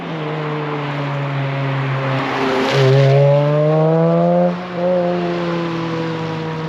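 A custom-built Toyota MR2 merges onto a highway, its engine a loud, close, steady droning note that climbs in pitch, dips briefly at a gear change, then pulls on again.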